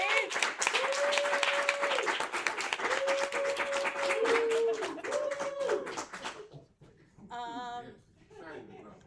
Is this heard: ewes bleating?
no